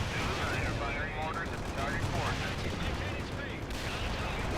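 Battlefield barrage in the World in Conflict video game, dense crackling gunfire mixed with distant-sounding shell impacts, a continuous rolling din without clear separate blasts, fairly quiet overall.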